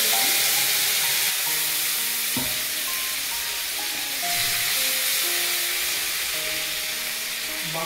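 Bay leaves, dried red chilies, cumin seeds and ginger-chili paste sizzling in hot oil, a dense, continuous crackling fry with a steady hiss and occasional tonal scrapes of stirring.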